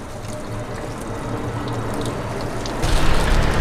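Tap water runs steadily while a kombucha culture is rinsed under it, a continuous splashing stream that grows louder and fuller toward the end, with no voices.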